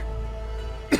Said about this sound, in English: that was... random coughing fit